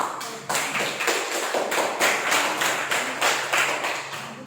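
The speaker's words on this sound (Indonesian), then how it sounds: "Aplaus dulu untuk Amel." A classroom of students applauding a classmate, rhythmic clapping that comes in steady, evenly spaced beats, fairly close and sustained for several seconds.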